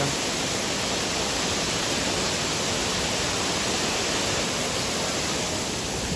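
Steady broadband rush of water pouring at Kaigal waterfall, loud and continuous with no breaks, heard alone without any voices.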